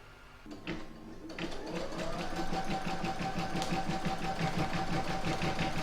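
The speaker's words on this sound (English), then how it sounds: "I'm now going to pop that in my machine and stitch round number 2" An embroidery machine stitches a second round on an in-the-hoop towel topper, its steady mechanical whir running evenly after a brief startup, with a fast rhythmic needle chatter close by and no voices.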